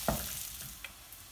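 Green chilies and curry leaves frying in a pan for a Kerala-style Malabar chicken curry, a steady close sizzle with a couple of brief stirring scrapes, no talk.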